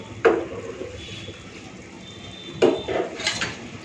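Rice being washed and tipped into a pot of hot water with fried spices: two sharp clattering knocks of pot and utensil, each followed by a brief wet rustle, with no talk.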